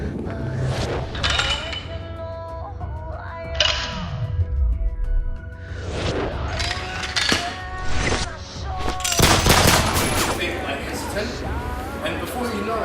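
Blank gunshots fired on the film set of Max Payne: Retribution, several sharp loud bangs with metallic clinks and a descending whoosh, scattered across a busy, noisy stretch amid set activity.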